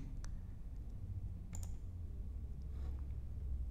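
A computer mouse gives a few faint, sparse clicks against a quiet background hum, with no talking.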